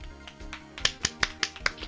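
A character in the Steins;Gate 0 video game applauds with a few sharp, crisp claps in an evenly spaced rhythm, close and fairly quiet, with no talking.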